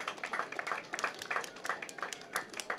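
A small group claps in scattered, uneven bursts, fairly faint and brief.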